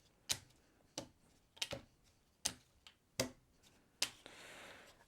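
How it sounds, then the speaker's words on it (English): Stiff cardboard action tiles from the Magic Maze board game are shuffled one-handed, giving a series of sharp, separate clicks and snaps spaced irregularly, ending in a brief soft riffle, close and quiet. "you have to shuffle up your action tile deck"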